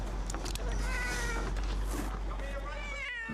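A cat meows several times from up in a tree, with people talking over it and an outdoor hum underneath.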